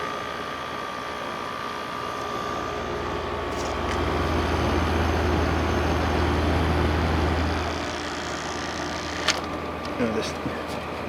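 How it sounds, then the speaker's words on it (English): An LG 6000 BTU window air conditioner, model LW6016R, runs with a steady hum and fan rush, its compressor noise swelling briefly midway, with a few light clicks near the end. "Got an LG compressor."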